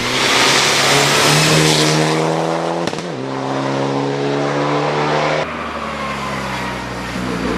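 A yellow Mitsubishi Lancer race car accelerates hard up a mountain hill climb course, its engine loud and close, revving high through rising pitch, then dropping briefly at a gear change before climbing again, with no talk over it.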